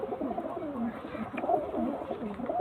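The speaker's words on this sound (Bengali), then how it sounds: "এটা নর পায়রা" A male Ice pigeon coos steadily at close range in low, rolling, repeated calls.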